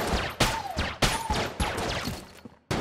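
Pistol shots from a laser-style gun in the Enter the Gungeon video game, several sharp bursts roughly every half second with descending chirps between them, loud and close with no talking.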